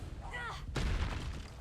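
A Confringo blasting spell explosion in the video game Hogwarts Legacy: a single sharp, loud burst about midway, preceded by a shimmering spell tone and followed by a decaying rumble.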